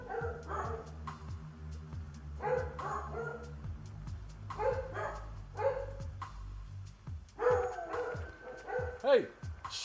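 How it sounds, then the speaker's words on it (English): Several dogs bark in ragged clusters of sharp yaps and whimpers at close range, with a person talking between the bursts. "Dogs losing their shit every time a squirrel runs up a tree."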